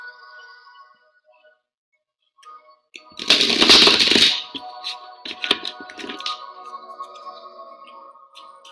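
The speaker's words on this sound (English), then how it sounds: "I'm just gonna start shuffling right now" Tarot cards shuffled by hand: a loud burst of riffling around the middle, followed by scattered softer card slaps and rustles, close and alone without speech.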